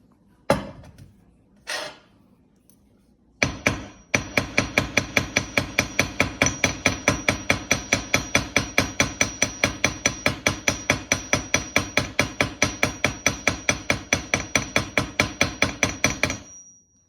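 Rapid, steady metallic hammering of a jewelry pendant's metal on a bench block, dozens of sharp ringing strikes in an even rhythm after a few isolated taps, loud and close.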